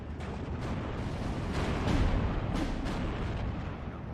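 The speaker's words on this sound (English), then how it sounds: "we're putting our artillery focus onto the flak filling here so that I don't lose my aircraft" Heavy artillery strikes thunder in Steel Division 2, a series of deep, rumbling booms rolling one after another at close range, loud and without talk.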